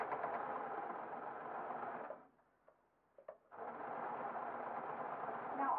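Domestic sewing machine stitching stretch jersey cotton, running steadily, then pausing about two seconds at a seam with a few faint clicks before resuming at the same even pace; close and continuous.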